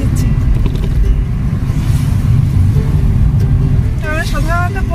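Steady low car engine and road rumble from inside a moving car, continuous throughout, with a brief chirping sound near the end.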